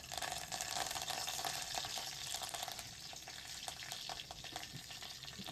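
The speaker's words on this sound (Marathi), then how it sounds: "आपण कढीपत्ता टाकूया." Curry leaves and mustard seeds sizzle in hot oil in a pot for a tomato curry tempering, a dense continuous hiss with faint crackles, fairly quiet.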